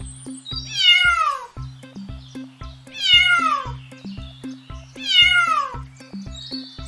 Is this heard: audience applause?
no